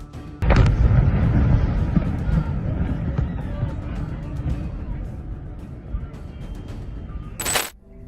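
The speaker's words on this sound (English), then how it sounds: "This explosion occurred near the Golberry municipality." A heavy, rumbling explosion near the Golberry municipality erupts after a brief pause and rolls on as a sustained low roar for several seconds before cutting off.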